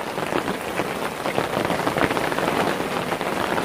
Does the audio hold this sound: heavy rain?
yes